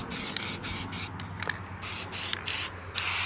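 A plastic truck grill spray painted up close in a light coat, heard as several hissing bursts of an aerosol can broken by brief pauses over a low background hum.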